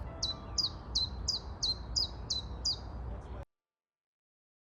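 Small birds chirp in a steady series of short, bright repeated calls over a low rumbling background, then the sound cuts off abruptly to silence.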